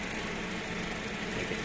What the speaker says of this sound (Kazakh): Мотор жагы четко иштеп турат